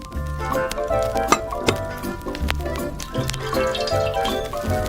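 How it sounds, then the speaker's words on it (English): Strawberry jam heats in a small pan on a stove, giving soft repeated bubbling and popping with light clinks, close and steady over low background tones. "To make jam, you need to heat strawberry jam on the stove."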